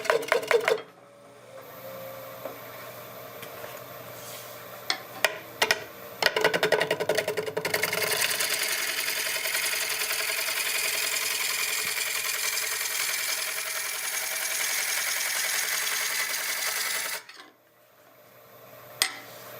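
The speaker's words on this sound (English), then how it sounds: "I'm back to my robust Turner's Edge 5/8 bowl gouge, and I'm going to take down the inside of this bowl." A wooden bowl spinning on a lathe while a 5/8 bowl gouge hollows out its inside, giving a steady close hiss and scrape of the cut that holds for about ten seconds, with scattered knocks and clatter before and after.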